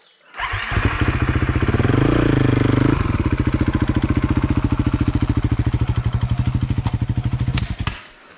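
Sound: Husqvarna motorcycle riding down a muddy stream

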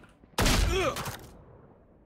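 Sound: gunshots in the video game Valorant

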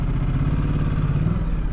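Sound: Ducati Multistrada 1260 S motorcycle engine idling in urban mode

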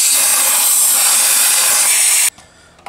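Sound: compressed air blowing out Makita vacuum ports

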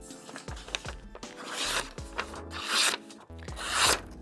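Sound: sharpening a chipped knife blade by hand

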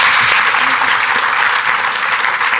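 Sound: applause for the panelists

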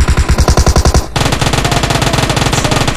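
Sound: submachine gun fire in video game PUBG Mobile

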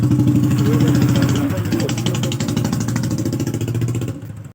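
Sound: Mahindra Yuvraj 215 small tractor engine

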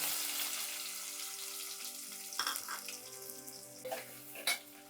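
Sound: small onions frying in oil with fenugreek

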